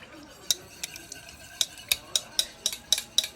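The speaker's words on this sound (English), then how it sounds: "Now mix them together until combined." A spoon stirs sour cream and milk together in a small bowl, giving a quick series of light, sharp clinks against the bowl, close and otherwise quiet.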